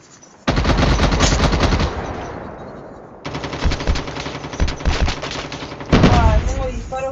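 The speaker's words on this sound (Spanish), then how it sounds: "Disparos por todos lados" Video game gunfire rattles in loud bursts of automatic fire, from a long opening volley through broken, rapid shots to a final heavy burst near the end.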